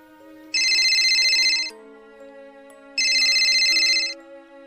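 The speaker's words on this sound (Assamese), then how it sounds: "হঠাৎ ফোনটো বজি উঠিল" Phone ringtone sound effect, two loud bright electronic ring bursts about a second each, separated by a pause, playing over a soft sustained musical background.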